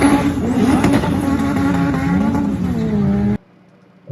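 A 400hp Honda Civic launches hard with wheels spinning, its engine screaming at a steady high pitch for over three seconds under constant load, then cutting abruptly to near silence.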